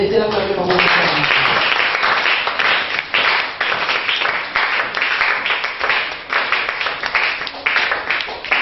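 A church congregation applauding and cheering to praise God during a sermon on women and prayer, with dense, loud clapping and shouts held over several seconds and no clear speech on top.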